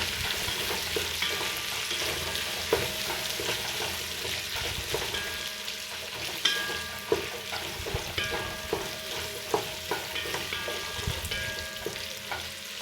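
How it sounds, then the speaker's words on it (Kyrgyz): Onion fries in a pan for lagman, giving a steady, moderate sizzle with regular scraping and clinking as a utensil stirs it. Sharper knocks break in now and then, and nobody speaks. "Пияз салып кууруйм."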